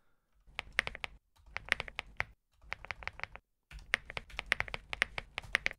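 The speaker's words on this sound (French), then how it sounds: "J'espère que vous kiffez le bruit du clavier." A computer keyboard is typed on in quick bursts of crisp, close clicking keystrokes, separated by short silent pauses, with no talk.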